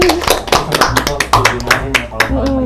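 Bursts of hand clapping from a group at an Indonesian campus talk event, close and uneven, mixed with people speaking over and between the claps.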